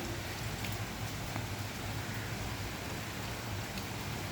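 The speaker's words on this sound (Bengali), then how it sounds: "বৃষ্টির থামাথামি নাই বৃষ্টি শুরু হয়ে গেছে আজকে কয়দিন এক টানা বৃষ্টি পড়তে আছে" Steady, continuous rain that has been falling for days without letup, a dense even wash of noise filling the whole clip with no voices or breaks.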